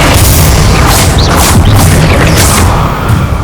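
Confringo spell explosions in the video game Hogwarts Legacy, a very loud, dense roaring boom with several blast bursts layered over a continuous rumble, close and overwhelming, with no talk.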